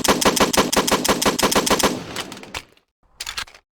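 Rapid, evenly spaced shots from an M870 shotgun in a video game fire in a loud burst, then stop, followed by a brief mechanical clatter.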